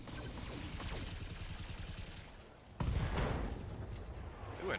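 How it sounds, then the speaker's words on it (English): Ammunition cooks off in a mech combat game, a sudden loud blast cutting through rapid weapon fire and battle noise, followed by a rumbling crackling tail. "Ooh, an ammo explosion."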